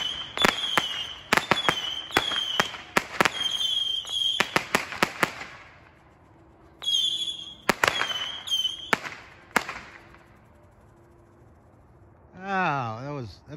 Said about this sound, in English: 25-shot Saturn missile battery.